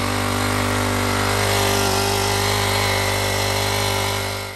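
A small Honda petrol engine on a portable PCW3000 winch drones at a steady idle close by, its constant hum unchanging with no voices over it.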